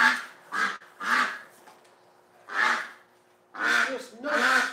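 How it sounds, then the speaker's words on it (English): A pet duck quacks in loud, close bursts, six harsh nasal calls in uneven groups separated by short quiet gaps, with nothing else competing. "Oh, you're a whack nut duck."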